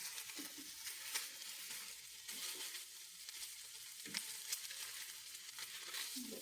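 Food browning in a pan during weekly lunchbox meal prep makes a steady, soft sizzle, close by, broken by a few brief scrapes of stirring and turning.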